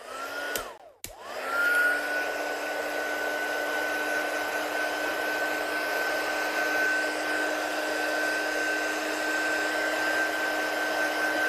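A heat gun used to heat set craft paint switches off briefly, then roars back with a loud, steady blowing whine that runs on unbroken, close.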